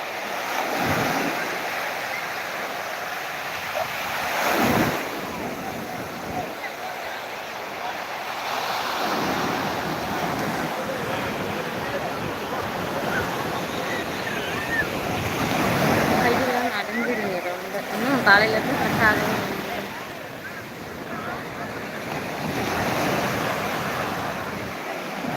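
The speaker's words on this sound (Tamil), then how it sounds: "கடல் செம்மையாக இருக்குது" Sea waves washing onto a beach shore, broad repeated surges of surf with wind buffeting the microphone, steady and fairly close, with occasional voices in the background.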